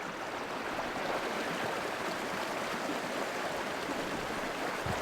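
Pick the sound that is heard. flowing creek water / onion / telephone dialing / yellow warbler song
flowing creek water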